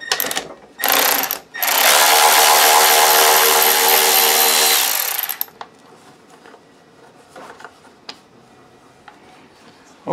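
A power driver whirs loudly for several seconds while backing thick screws out of a miter saw, with brief bursts before it, then quiet clinks and taps of loose parts.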